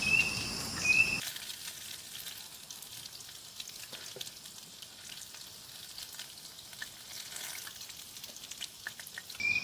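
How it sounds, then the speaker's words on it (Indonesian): Tofu meatballs fry in hot oil at a pine-forest campsite with a steady, soft sizzle, and insects chirp faintly in the background. "Ini saya lagi goreng tahu bakso ya."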